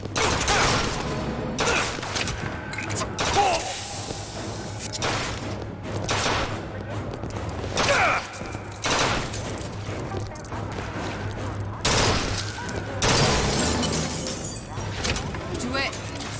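Repeated bursts of gunfire from a weapon in BioShock Infinite's Burial at Sea DLC, loud sharp volleys and scattered shots recurring across the scene over a steady low hum and game ambience.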